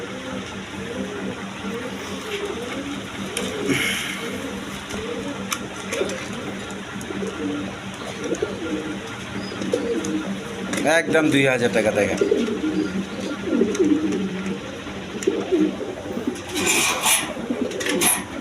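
Pigeons coo at a stall selling a pair of Mundian pigeons, a soft rolling cooing that runs steadily beneath someone talking for most of the stretch.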